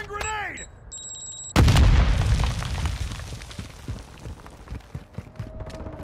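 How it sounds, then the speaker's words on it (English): A single loud grenade explosion in Modern Warfare II lands close with a sharp boom, then a long rumbling, crackling decay, preceded by brief electronic game tones. "Throwing grenade!"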